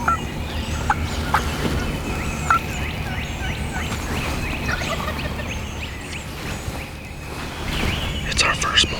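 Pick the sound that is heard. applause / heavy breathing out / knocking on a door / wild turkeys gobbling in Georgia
wild turkeys gobbling in Georgia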